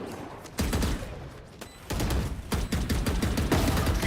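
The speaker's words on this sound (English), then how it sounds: "Some blind shooting ends up taking down Josel." Valorant gunfire crackles in uneven bursts of rapid shots during an esports match, loud and close with brief gaps between volleys.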